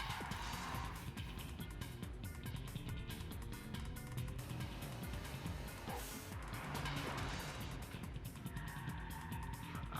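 A racing car speeds away in the Initial D anime, its engine a loud, sustained roar that holds steady for the whole stretch, blended with other dense noise.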